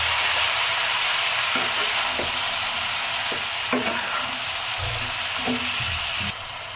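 Potatoes and bhotbhoti frying together in a pan, a loud continuous sizzle with scattered spatula scrapes and clinks as the mix is stirred, close up and without speech.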